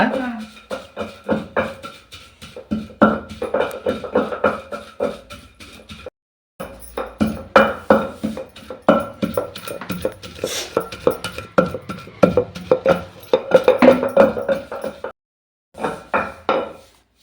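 Peanuts and sesame seeds pounded in a stone mortar for a cucumber chutney: close, rhythmic thuds and grinding knocks in quick runs, broken by a couple of short pauses.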